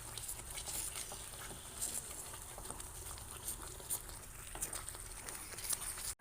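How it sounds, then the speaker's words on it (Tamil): Kerala halwa being stirred in ghee and coconut oil in a pan, giving soft, irregular scraping and light sizzling pops that continue steadily at a low, close level with no talk. "கைவிடாமல் கிளறிக்கிட்டே இருக்கணும்"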